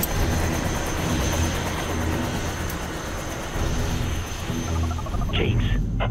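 Aircraft landing in the video game Prototype 2, a steady rumbling engine roar of moderate loudness that holds throughout, with a brief high-pitched electronic tone near the end.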